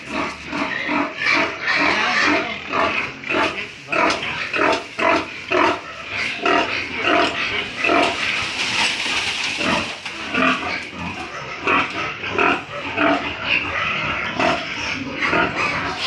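Pigs grunt and squeal continuously and loudly, a dense, chaotic chorus of several animals close by with no talking.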